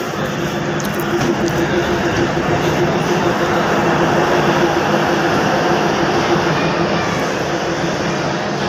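A train arrives at a station, giving a loud, sustained rumble with a steady low drone and a faint whine, close by and filling the whole stretch without pause.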